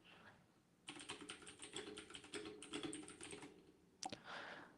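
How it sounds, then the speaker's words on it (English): Rapid clacking keystrokes come from a mechanical keyboard in a fast, continuous burst, close and crisp, then pause briefly before a final sharp key hit and a short flurry of typing. "The mechanical keyboard"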